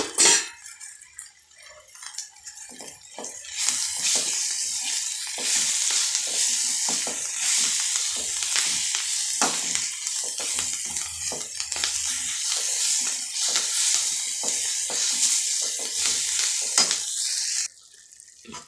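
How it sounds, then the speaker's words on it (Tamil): Grated raw mango tipped into a hot pan for a puli milagai-style side dish, a loud burst of sizzling and frying that settles into a steady, close hiss with occasional stirring scrapes, and no talking. "இப்போ நான் மாங்காய் திருவி வச்சுருக்கேன். அதை இதில் போட்டுடுறேன்."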